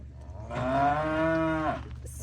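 A calf gives one long, loud moo lasting well over a second, a strong nasal tone that swells and then tapers off, heard up close with no talking over it.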